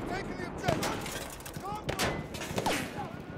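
Battlefield 1 combat with rapid gunshot cracks and distant thuds of battle, mixed with scattered tones and game effects under a voice.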